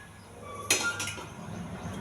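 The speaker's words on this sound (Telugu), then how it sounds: "ముందుగా స్టవ్ వెలిగించుకొని ఒక గిన్నె పెట్టుకోవాలండి." A metal cooking pot is set down on a lit gas stove, giving one sharp clink followed by a short ringing rattle against a faint background hum.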